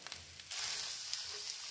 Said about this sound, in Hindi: इनको 3 से 4 मिनट तक ऐसे मीडियम फ्लेम पर भून लेते हैं हल्का हल्का